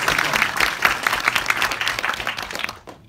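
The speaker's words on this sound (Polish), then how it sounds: "Więc jeszcze raz brawa dla pana Artura" A room full of people at a cinema film premiere applauds, a dense patter of clapping that holds steady for a few seconds and then fades out.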